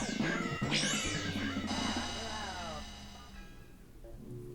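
A cat in the Pac-Man 2 video game lets out a drawn, wavering meow over background game music, fairly close and moderately loud, fading toward the end.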